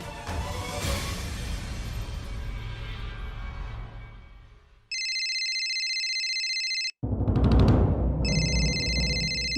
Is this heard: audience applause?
no